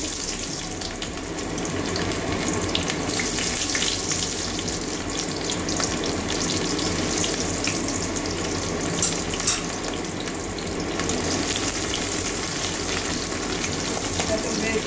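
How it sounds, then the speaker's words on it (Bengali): Garlic, chopped onion and black cumin frying in a generous amount of oil, a steady close sizzle with faint stirring scrapes running throughout. "বেশি তেল নিয়ে ভাজছি"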